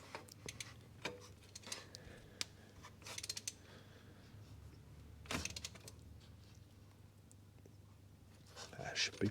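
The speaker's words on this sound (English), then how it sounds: "I'll pop that socket back on there and just tweak it up a little bit" A socket wrench ratchets in quick, faint clicking bursts while snugging up the oil filter on a 2009 VW Golf 1.4 petrol, with a few louder knocks and clunks scattered between.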